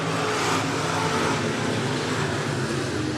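Stock cars racing down the back straightaway at Clay County Speedway, a dense, loud roar of several engines blending together, steady throughout with no talk.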